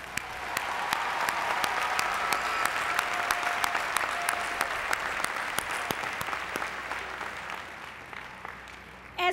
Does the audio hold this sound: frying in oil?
no